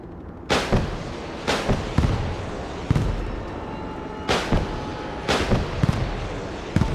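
Anti-aircraft weapons firing in the video game Broken Arrow: a string of sharp, booming reports, some single and some in quick pairs, loud and spaced irregularly over a steady background rumble.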